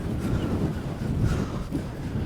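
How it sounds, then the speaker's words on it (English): Strong wind buffets the microphone at Scotland's most southerly point, a steady low roaring rumble with gusty surges throughout and no voices. "It is seriously windy"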